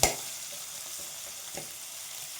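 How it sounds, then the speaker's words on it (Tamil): Curry leaves sauté in a pan for upma, giving a faint, steady sizzle with a few soft taps and stirs near the start and midway. "இப்பொழுது கருவேப்பிலை அனைத்தும் போட்டு வதக்கி கொண்டிருக்கிறோம்"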